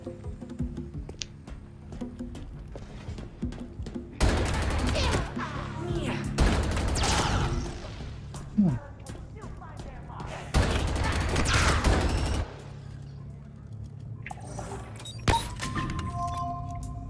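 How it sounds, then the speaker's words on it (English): A plasma cannon in the video game Halo Infinite fires in two sustained loud bursts, with scattered thuds and impacts in between and a quieter background of game sounds. "Plasma cannon, all right."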